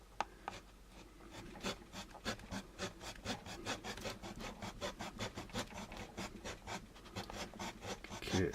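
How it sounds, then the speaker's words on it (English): Rapid back-and-forth rasping strokes of a small saw cutting through a plastic part of an AMT model kit, close up and fairly quiet, in a steady rhythm without talk. "How much more sawing do I have?"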